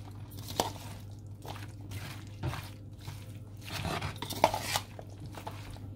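A spoon scrapes and clinks against a bowl while chickpea and potato chaat is stirred with spices, the soft mushy stirring broken by a few sharper metallic taps, close and fairly quiet.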